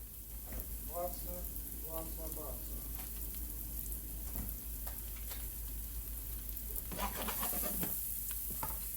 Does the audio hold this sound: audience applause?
no